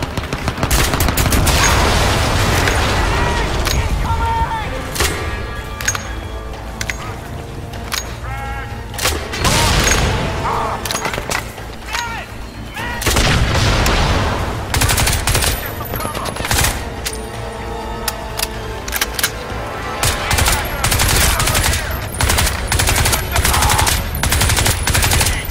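Sustained automatic gunfire in a battle scene, dense rapid bursts and heavy booms nearly continuous throughout, loud and close, with shouted voices breaking through at moments.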